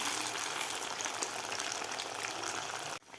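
Potato pinwheel samosas deep-frying in oil on medium heat give a steady, dense crackling hiss throughout, close and even, cutting off abruptly near the end.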